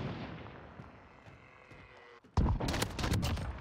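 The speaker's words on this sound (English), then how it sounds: "Oh my god, I just hit those shots." Desert Eagle pistol fire in the Modern Warfare shooter: after a quieter stretch of ambient game noise, a loud burst of close, sharp shots erupts in rapid succession, continuing to the end.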